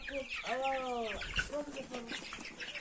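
Chickens clucking close by as they eat freshly brought grass, a few short, rising calls repeated over a low background murmur.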